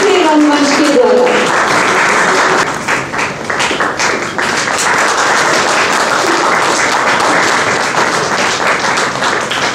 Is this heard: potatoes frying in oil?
no